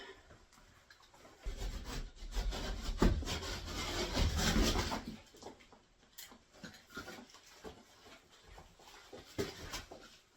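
A utility blade cuts and scrapes through basement closet wall material, a rough rasping burst building over a few seconds and then easing into scattered scratchy strokes, close by, with no talking.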